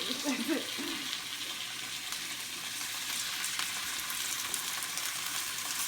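Pieces of food laid skin side down in a hot pan sizzle and fry steadily throughout, a continuous close crackle with a brief soft stir or clatter near the start.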